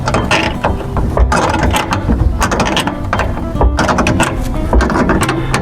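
Socket ratchet clicking steadily as bolts are driven in while installing a gas tank on a 1968 Mercury Park Lane, with dense mechanical ratcheting close up over a busy garage background.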